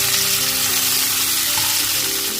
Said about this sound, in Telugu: ఆయిల్ కొంచెం హీట్ అయిన తర్వాత వీటిని షాలో ఫ్రై చేయాలండి